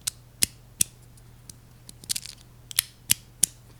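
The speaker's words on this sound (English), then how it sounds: "I'm going to stick this up to the microphone so you can hear the snap." FidgetBoy fidget slider snapping magnetically, a series of about nine sharp clicks held close to the microphone, irregularly spaced with a small cluster in the middle, over a faint hum.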